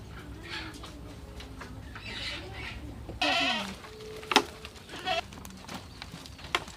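Goats on a goat farm bleat in a few short, loud calls close by, with a steady low rumble underneath and a brief burst of other noise partway through.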